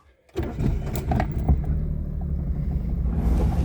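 A small Daewoo Tico kei car starts moving after a brief quiet moment, its engine rumbling low and steady from inside the cabin, with rattles and knocks over a continuous drone.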